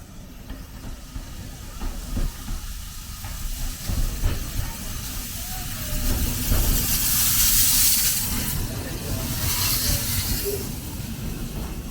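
A train on the Severn Valley Railway heritage line passes on a rainy day with steady hiss and rumble that builds and lingers, hard to pick out against the wet background noise.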